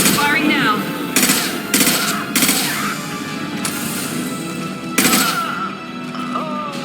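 Bursts of rapid automatic gunfire in a Mass Effect 2 combat scene, several loud separate volleys spaced a second or so apart, with a faint voice under the action.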